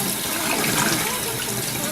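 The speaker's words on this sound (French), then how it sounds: "je vais bien mettre de l'eau froide" Cold water runs steadily from a kitchen tap onto pasta, a constant close rushing splash for the whole stretch with no talk over it.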